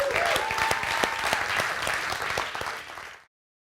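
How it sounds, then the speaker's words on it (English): Loud, steady round of applause from an audience at a startup demo day, many hands clapping continuously before cutting off abruptly. "Let's give them a big round of applause."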